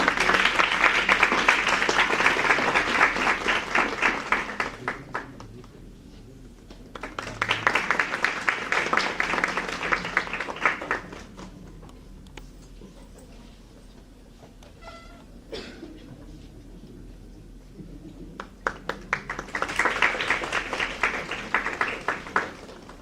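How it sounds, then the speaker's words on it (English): Bursts of audience applause at an international pharmaceutical conference, clapping swelling and fading in three long rounds separated by quieter gaps, loud and dense from a large crowd in a hall. "Audience, please have a round of applause."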